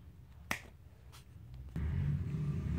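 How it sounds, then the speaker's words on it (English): A single crisp finger snap rings out close by, followed by a fainter second one and then a low, steady room hum in a small tiny home. "Just snap your fingers and it's clean."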